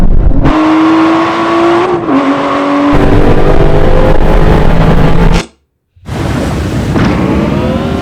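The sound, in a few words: Aston Martin race car passing during a drag race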